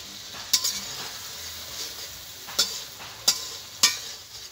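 Fried eggplant pieces stirred into a sizzling spice masala in a pan, a steady bright sizzle punctuated by four sharp clinks and scrapes of a utensil against the pan.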